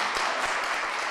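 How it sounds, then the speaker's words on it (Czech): Audience applause after a performance by young gymnasts at a public show, a steady dense clapping that fills the moment with no speech over it. "Každý výkon byl odměněn potleskem."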